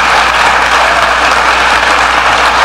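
An Iowa Freedom Summit political crowd claps continuously, a loud, unbroken roar of applause that holds steady from start to finish.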